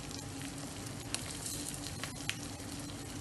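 A cheese egg omelet sizzles softly in olive oil in a pan, a faint even frying hiss with a couple of sharp pops and small crackles, no one speaking.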